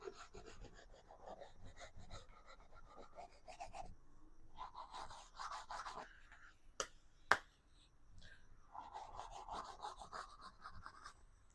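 A paintbrush scrubs paint onto canvas with heavy pressure, making soft bursts of scratchy friction separated by pauses, with two sharp taps partway through.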